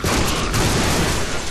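Dense, continuous gunfire from guns used in combos in the Deadpool video game, a loud unbroken barrage of rapid shots with no gaps.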